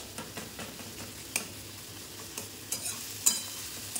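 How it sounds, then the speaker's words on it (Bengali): A metal spatula stirs and chops egg bhujia made with onion, green and dried chillies, turmeric and salt in a pan of mustard oil. Soft scrapes and occasional sharp taps sound over a faint, steady sizzle, with no talk. "এটাকে এবার নেড়ে নিতে হবে এবং খুন্তি দিয়ে এটাকে পিস পিস করে কেটে নিতে হবে"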